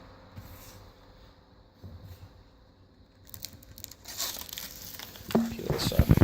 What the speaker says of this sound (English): Peel this off here so you guys can see